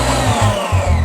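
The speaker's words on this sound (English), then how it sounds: "We close the machine and we're going to whisk just for 1 minute in level 1." An Evvoli kitchen machine running at its lowest whisking speed, a close, loud motor whir with steady low humming and brief dips in pitch.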